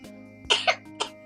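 A person coughs three times in an uneven rhythm, two quick coughs close together and then one more after a pause, near and moderately loud over a steady low hum.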